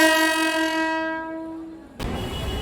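A Mumbai local train at Dadar station in the evening sounds a loud, sustained horn for about two seconds with no talk. The horn gives way abruptly to broadband rumbling train noise.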